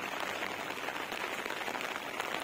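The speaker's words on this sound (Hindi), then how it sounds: "बारिश इतनी है" Steady rain falling at a campsite in Chopta, Uttarakhand, a dense even patter close by with no pauses and no talk.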